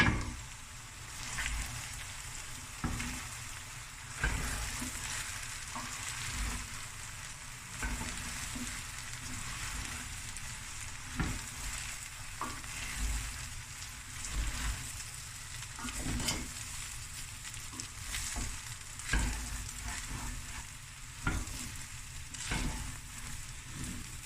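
Rice stir-fried in a pan, a steady close sizzle with repeated scraping stirs and clatters over about twenty-four seconds.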